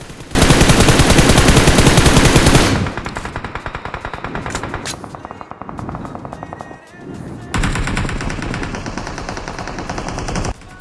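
Rapid automatic M4 rifle fire in the mobile shooter game BGMI, long dense loud bursts of gunshots with brief pauses between volleys, close and dominant throughout.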